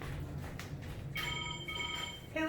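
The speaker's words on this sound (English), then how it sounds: "the phone's ringing because real time" Telephone ringing in a florist's workroom, a bright tonal electronic ring that starts partway through and repeats, moderately faint against a low background hum.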